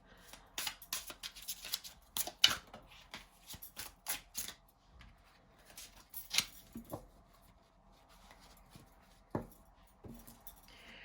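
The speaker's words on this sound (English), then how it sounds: "I'm going to give the cards a little bit of a shuffle" Tarot cards are shuffled in a series of quick, crisp riffles and taps, close and fairly quiet, with brief pauses between bursts.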